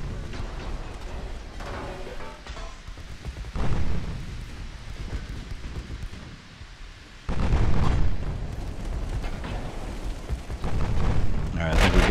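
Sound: torpedo explosions hitting ships, from video game Ultimate Admiral: Dreadnoughts

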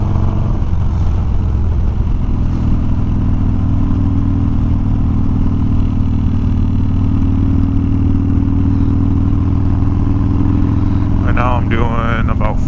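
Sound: motorcycle engine revving while downshifting and upshifting through RPM ranges

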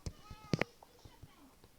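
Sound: cat meowing

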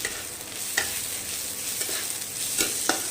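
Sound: stirring chopped ginger and garlic frying in pan

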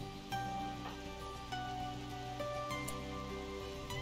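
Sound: rain falling in RimWorld video game

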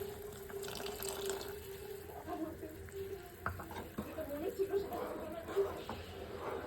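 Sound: water being added to cornflour and mixed

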